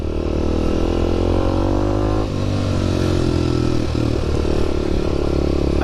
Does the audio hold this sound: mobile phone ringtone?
no